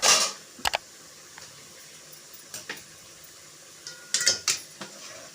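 In a home kitchen, a metal lid is lifted off a pot of simmering soya-chunk meal maker gravy, with sharp clanks and scrapes of metal cookware scattered over a quiet background.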